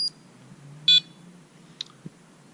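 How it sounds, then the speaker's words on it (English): An Immersion RC Vortex 180 drone receiver in bind mode gives a short high electronic beep, followed by a couple of fainter chirps over a quiet low hum. "that beeping must mean it's in bind mode"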